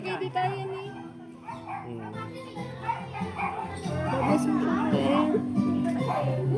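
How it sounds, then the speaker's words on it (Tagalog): A dog barks among children's chatter and adult voices at a lively family birthday gathering, with the yaps partly buried under the talk and play. "may aso dyan"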